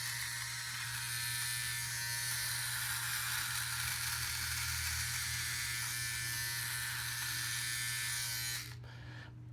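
An electric shaver, a Philips Norelco OneBlade or Remington Durablade, buzzes steadily and close up while shaving, holding an even, continuous hum for several seconds before abruptly switching off near the end.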